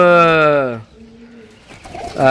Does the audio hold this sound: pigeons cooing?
yes